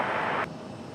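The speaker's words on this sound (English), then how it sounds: "little A319 departure action" An Airbus A319 jet departing on takeoff at Raleigh-Durham International Airport, a loud steady broadband engine roar that drops in level partway through, close and continuous.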